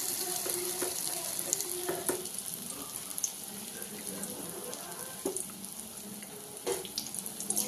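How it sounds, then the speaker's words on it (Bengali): Fritters made from shitol fish paste frying in hot oil, a continuous bubbling, crackling sizzle close by with occasional spatters and clinks, steady throughout and with no talking. "এই যে আমি শীতলের বড়াগুলো আমি একে একে ছেড়ে দিচ্ছি।"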